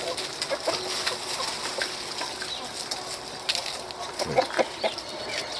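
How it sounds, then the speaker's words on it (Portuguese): Four roosters squabble outdoors on a rural smallholding in Santa Elvira, Mato Grosso, with scattered clucks and agitated squawks, a sharper flurry near the end, over a soft rural background. "Os galos brigando."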